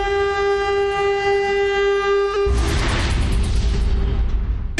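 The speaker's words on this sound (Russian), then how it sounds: "Но вместо этого звучит сирена." An alarm siren goes off in the kitchen of a Hell's Kitchen cooking competition: a loud, steady, even tone that gives way halfway through to a harsh, noisy blaring roar.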